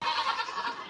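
A baby goat on a family farm lets out one close, loud, wavering bleat lasting about a second.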